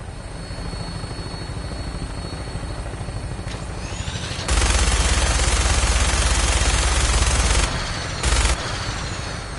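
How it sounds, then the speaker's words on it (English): A helicopter-mounted minigun in Fallout 4 roars in a long continuous burst and then a shorter second one over the steady drone of the helicopter's rotors and engine. "minigun in front of you is loaded and ready to fire"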